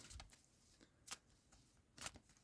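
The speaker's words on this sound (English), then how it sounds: "Let's just give these a quick shuffle" Tarot cards being shuffled, quiet riffling bursts at a close distance, three or four short crisp rustles spaced about a second apart with no voice.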